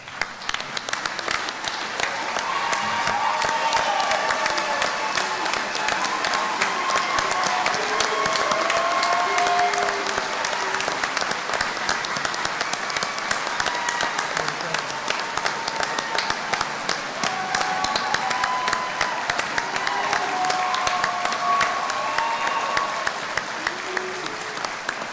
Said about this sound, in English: please give them a significant round of applause